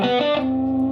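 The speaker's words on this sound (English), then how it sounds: "It's got nothing but a little bit of distortion that's coming through the actual channel of the amp." An electric guitar with a very dry tone and only slight distortion from the amp's own channel, playing a short run of notes that settles into one sustained ringing pitch.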